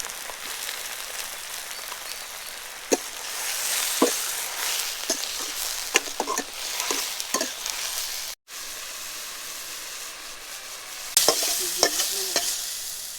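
Taro leaves sizzle and fry in leftover shrimp-frying oil while being stirred, giving a steady crackling hiss broken by sharp scrapes and clicks of a utensil against the pan, with no voices.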